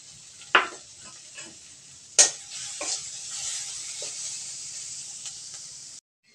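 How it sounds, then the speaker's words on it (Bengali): Chopped onion, ginger and green chillies fry with turmeric in a pan. A couple of sharp stirring clacks come first, then a steady close sizzle that runs for several seconds before cutting off abruptly. "পেঁয়াজ কুচির সাথে আমি সামান্য আদা কুচি দিয়ে দেব এবং 2টা কাঁচামরিচ দিয়ে দেব"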